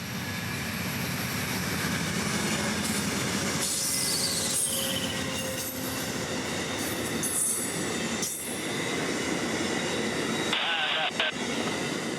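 A late Amtrak 91 led by two P42 locomotives pulls away from the Jacksonville station a few yards off, a steady rumble with wheel squeal and rail noise. Sharp clanks and sudden dips break in over about twelve seconds.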